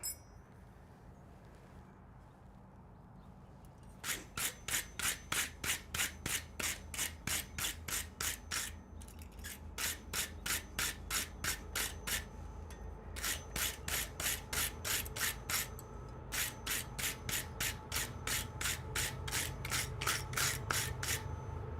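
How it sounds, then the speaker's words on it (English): Spring steel scraped briskly over hot forged ironwork in a blacksmith's smithy, a fast run of harsh rasping strokes that starts after a few quiet seconds and continues in steady bursts, close and loud with a low background hum. "You rub them with spring steel."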